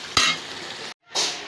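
Boal fish and new potatoes stir-fried with onion, turmeric and chilli spices, giving a close, steady sizzle with a few utensil clinks and a brief silent gap before the frying resumes.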